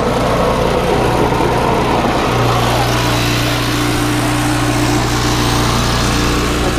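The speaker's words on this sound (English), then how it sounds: "Lawnmower works." A lawn mower pulled from a fire-damaged scrap pile runs continuously at close range, its small engine droning loud and steady throughout.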